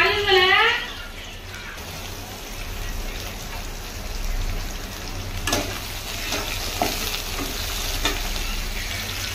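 Cumin and spices fry in hot oil with a steady, close sizzle and crackle, brief stirring scrapes throughout and a short voice at the start.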